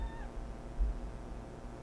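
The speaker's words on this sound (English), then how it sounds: "Am I scaring you, kitty?" A single short, faint meow from a pet cat, quickly fading into a quiet room hum.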